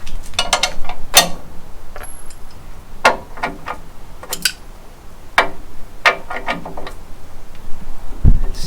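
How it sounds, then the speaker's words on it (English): A 24 mm bolt is worked loose from a Unimog U1300L subframe, giving a series of sharp, irregular metallic ticks and clicks, close by, with brief pauses between bursts and a low thump at the end. "first thing we're going to do is take this bolt out"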